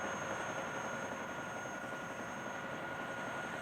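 A helicopter during the 1972 siege of Kontum gives a faint, steady, even rotor-and-engine drone throughout, with no voices heard.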